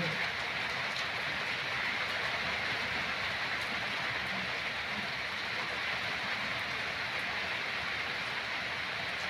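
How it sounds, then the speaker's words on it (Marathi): Steady rain pours down in a dense, unbroken hiss at constant loudness, with no voices, in a rural setting. "बघा ह्या पावसाची पद्धत आहे का बघा."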